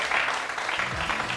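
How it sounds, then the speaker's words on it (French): Studio audience applause during a French talk show, a continuous wash of clapping at moderate level, even and unbroken for the whole stretch. "Ça, c'est applaudi."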